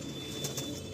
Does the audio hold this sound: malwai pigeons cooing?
yes